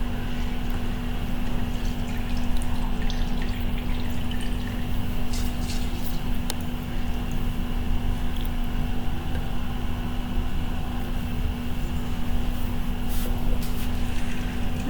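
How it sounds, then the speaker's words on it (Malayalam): A wet grinder runs steadily, grinding soaked rice into batter for palappam, with a constant loud motor hum and sloshing wet churning that carries on without pause throughout. "ഇതൊന്ന് ആട്ടിയെടുക്കുക."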